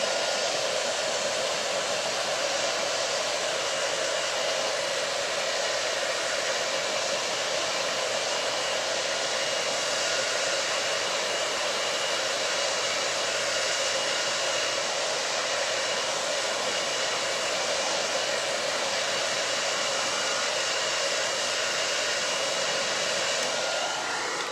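A hair dryer on its cool setting blows steadily on a decoupage Christmas ornament, a loud, constant close-up whoosh with a stable hum that runs without a break for the whole stretch.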